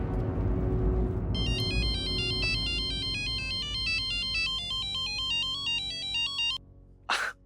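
A phone rings on an outgoing call, playing a bright melodic tone pattern that repeats for several seconds before cutting off, followed by a short sharp breath.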